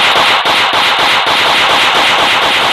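Rapid automatic gunfire in the video game Minecraft, a dense, loud and continuous burst of shots with brief breaks, heard alone with no talking.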